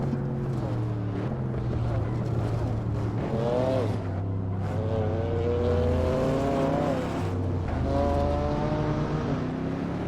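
A BMW M4 engine in the Assetto Corsa racing game drones steadily and loudly throughout, its revs climbing and dropping in smooth sweeps with no pause.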